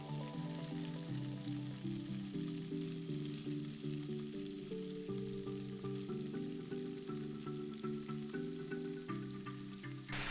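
Kadhai paneer masala stirred in a kadhai over a medium-high flame: a continuous bright sizzle and crackle running under steady, tuneful background music for the whole stretch.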